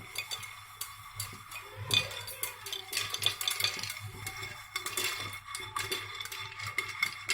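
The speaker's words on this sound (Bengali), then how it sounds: "আমি এখনও নাড়ছি, প্রায় 1 মিনিট মতো নাড়তে হবে" Popcorn kernels stirred in a pan, light rattling and ticking of the kernels against the metal with clinks of the stirring spoon, soft and close, no voices.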